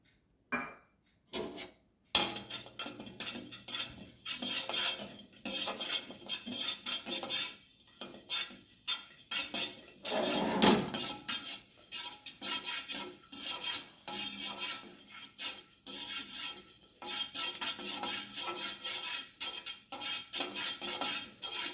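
Cumin seeds roasting in a pan over low heat, stirred with a metal spoon that scrapes and clinks against the pan in irregular bursts. A faint sizzle runs underneath, with no talking.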